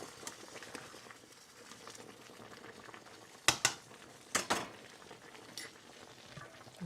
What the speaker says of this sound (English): this isn't necessarily what you call a slow simmer